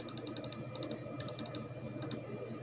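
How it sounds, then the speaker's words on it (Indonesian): Typing on a computer keyboard while writing a document, quick light key clicks in short clustered bursts with brief pauses, close and fairly quiet with no talk. "terus ke bawah kita ketik ke bawah"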